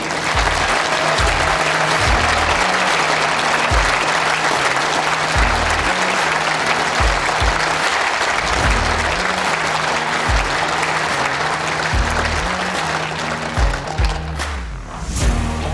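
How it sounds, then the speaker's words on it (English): Steady, loud applause fills an indoor bowls arena as an audience cheers the mixed pairs world champions. The clapping runs continuously and starts to thin near the end. "keep that applause going for the world champions of the mixed pairs"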